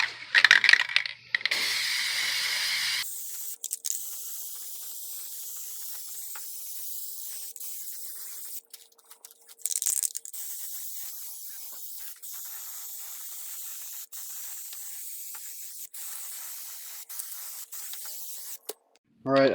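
Plasti Dip aerosol sprayed onto handmade Predator cosplay feet, several long hissing bursts from a nearby can separated by pauses and faint handling clicks.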